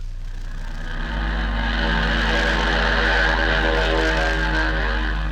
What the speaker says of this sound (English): It's the sound of an airplane